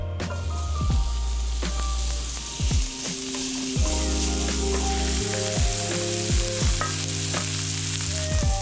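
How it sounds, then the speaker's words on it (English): Andouille sausage sizzles loudly in an oiled pan, with a continuous close crackle and a few sharp scrapes and pops from stirring, and no voices. "To this pan, I'm gonna go ahead and add my andouille sausage."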